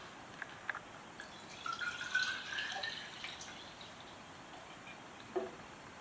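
Water poured into a Golden Harvest mason jar, a faint trickling stream with light drips, quiet and close, with no talking.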